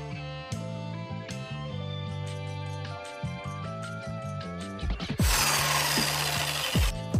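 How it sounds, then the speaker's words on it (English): Sawzall reciprocating saw powered by an Enphase IQ PowerPack 1500 whirs in bursts, then cuts loudly with a harsh rasping roar close by, over a steady tonal background. "I'm just gonna film for a minute or so running the Sawzall and charging the laptop"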